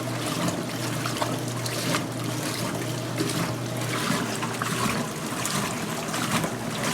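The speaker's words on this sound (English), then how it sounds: "The black agitators going at it with each other." Black agitators churn water side by side in an RV washing machine, giving a steady, close wash of splashing and sloshing with a low constant motor hum underneath and no speech.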